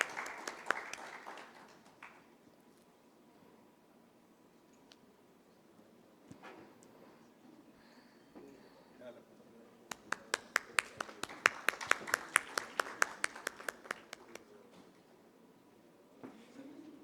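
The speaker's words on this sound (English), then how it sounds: "Let's give a warm round of applause" Audience applause at a surgical conference plenary session in a Karachi hotel hall, a brief patter early on, then a fuller burst of clapping building and fading over several seconds, with faint murmuring between.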